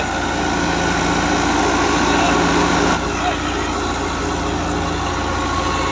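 A New Holland Dabang tractor drives a new thresher with a steady, loud mechanical drone that holds close and constant throughout, briefly dipping in level partway through.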